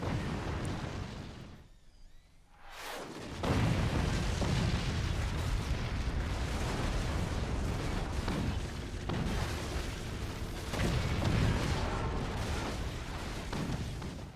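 Cannon fire breaks through defenses in a competitive strategy video game match, heard as a dense run of booming impacts and explosions. There is a brief lull near the start, then sustained loud bursts continue to the end.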